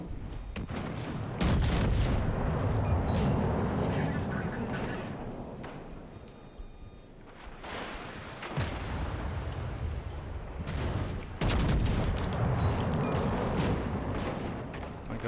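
Ship guns firing during a World of Warships-style naval battle against the St. Louis cruiser, heavy booming salvos in bursts with rumbling between, while a player talks over the action throughout.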